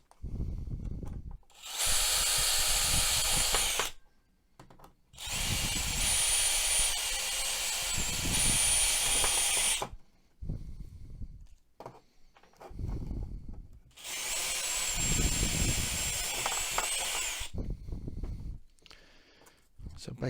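A power drill with a 3.5 mm bit bores the threads out of M3 bolt holes in a controller, running in three long loud bursts separated by pauses with handling noise and occasional talk.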